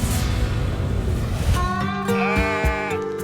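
A sheep bleats partway through, its wavering cry rising out of a steady background rumble and continuing briefly to the end.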